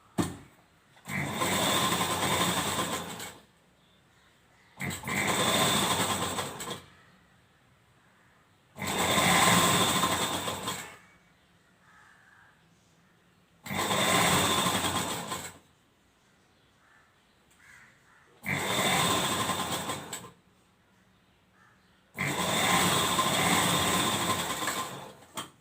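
A sewing machine stitching a lehenga dress runs in six separate bursts of rapid mechanical whirring, each lasting a couple of seconds, with quiet pauses between them.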